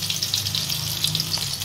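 Small stuffed eggplants fry in a little oil, giving a steady, close, dense sizzle that holds throughout the brief moment.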